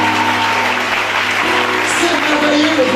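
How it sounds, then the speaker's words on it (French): A church congregation applauds and cheers for Jesus, steady loud clapping filling the room under a sustained musical drone, with voices calling out faintly in the mix. "est-ce que tu peux acclamer Jésus?"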